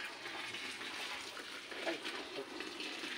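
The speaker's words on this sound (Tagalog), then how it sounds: "ibubuhos na po natin siya sa ating balde na may pants" Dye water poured steadily into a bucket holding pants makes a continuous close splashing gush for a few seconds, fairly quiet. A brief voice cuts in.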